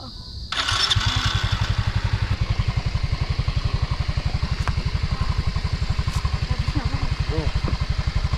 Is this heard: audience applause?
no